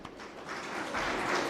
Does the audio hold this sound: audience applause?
yes